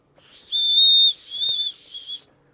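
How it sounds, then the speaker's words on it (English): Emergency whistle clipped to an outdoor hiking and fishing chest pack, blown in three short shrill blasts, the first longest, loud and close with no talking. "a whistle right there for emergency times"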